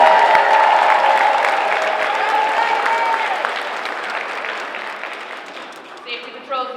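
An audience applauds students at a 5th grade moving up ceremony, the clapping strong at first and gradually tapering off, with a voice briefly heard near the end as it fades.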